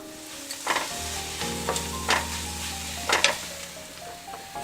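Carrots and green beans sizzle in a pan for an Iranian rice dish, a steady frying hiss punctuated by four or five scraping stirs of a utensil, close-up with no talking.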